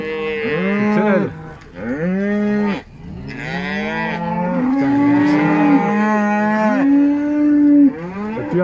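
Several cows moo loudly and close by, long drawn-out lowing calls overlapping one after another with no talking.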